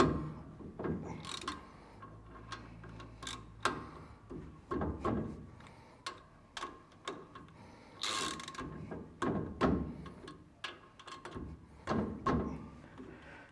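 Clicking ratchet wrench tightening axle bolts to final tension on a Toyota LandCruiser Hilux rear axle, a steady series of sharp close ratchet clicks and clunks in bursts with short pauses, no talking.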